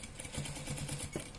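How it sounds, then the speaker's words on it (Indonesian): A sewing machine stitching a fabric mask pouch with zipper tape, a close, loud, rapid mechanical whirring and clatter running continuously in a short burst. "Lalu kita jahit"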